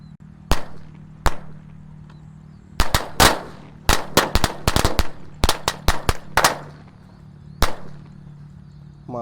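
Corsair Galaxy firecrackers, a pack lit from one end, go off in sharp, loud bangs, first a few spaced single cracks and then a quick irregular burst, with a steady low hum underneath between the reports.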